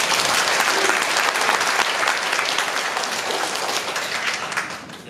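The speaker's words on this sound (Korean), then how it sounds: "박수로 맞이하시죠." An audience claps continuously to welcome a speaker at a real estate policy forum, a dense, loud wash of applause that holds steady and tapers slightly at the end.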